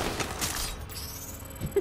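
Gunfire in the video game Titanfall 2: a loose spatter of sharp shots and impacts, fairly faint and distant, scattered across the short stretch with a small louder crack near the end.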